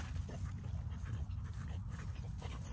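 A dog, one of several kept indoors all day, whimpers and pants close by in a steady, low-level run of soft breathy sounds.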